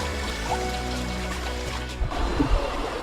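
Water flowing steadily through a water feature on the KAUST university campus, a continuous close rushing trickle with a few brief splashy bursts near the end.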